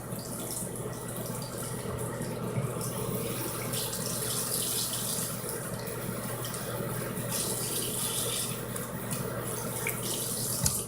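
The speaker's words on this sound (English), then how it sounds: "I'm just gonna like rinse my hands off because I don't want the camera to get dirty" Water runs steadily from a tap while hands are rinsed under it, a soft continuous splashing with no talk.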